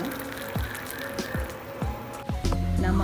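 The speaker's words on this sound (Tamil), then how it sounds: "இதை நல்லா வடிகட்டிக்கோங்க." A boiled herbal decoction, reduced from 200 ml of water to 100 ml, is strained. It lands as separate close drips at a steady pace, then turns into a fuller pour at the end.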